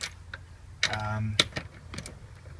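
A small wrench tightens bolts on a car's rear strut brace, giving a few short metallic clicks and ratcheting ticks at close range, quiet and sparse.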